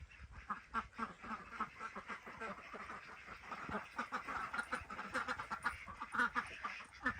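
Farm ducks quack continuously and fairly close, a dense, overlapping chorus of calls with no clear pauses throughout.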